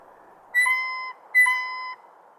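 Two clear, bell-like calls from a male blue jay, each a short tonal note about half a second long with a brief gap between them, close and loud against a quiet background.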